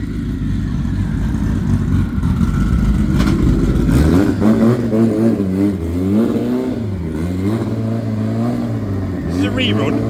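A drag racing car engine at a quarter-final idles with a low rumble, then revs hard and accelerates in rising, wavering roars, loud and fairly close, with people talking over it.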